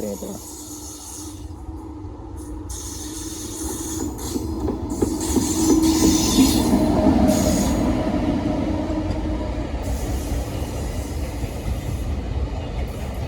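A train rolls steadily along the tracks, its rumble swelling louder midway then easing slightly, with faint clacking and squealing throughout.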